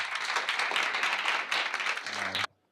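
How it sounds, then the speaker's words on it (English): Meetup audience at an SF Python lightning talk claps in a dense, steady burst of applause for the speaker, close and fairly loud, ending abruptly with a brief low hum. "Let's give a round of applause for Austin"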